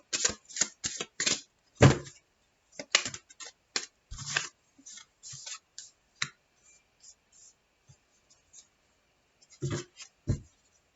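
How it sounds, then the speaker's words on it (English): Riffled shuffling of a card deck in several quick bursts, crisp clicking and fluttering, fairly close, with pauses between and a final pair of shuffles. "let me go ahead and shuffle this deck"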